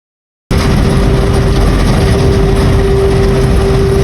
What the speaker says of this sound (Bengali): তো সবাই বাসের আওয়াজটা, ইঞ্জিনের গর্জনটা একটু শুনেন।